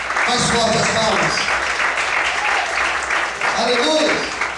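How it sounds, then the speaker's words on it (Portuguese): Church congregation applauding at an evening service, a steady dense wash of clapping lasting throughout, with voices shouting and speaking over it. "Mais forte as palmas."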